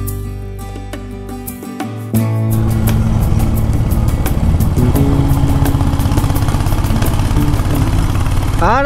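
A Royal Enfield Hunter 350 motorcycle on a hill road: the engine idles steadily at first, then the thump deepens into a loud, sustained running drone as the bike pulls away and rides on, close and alone.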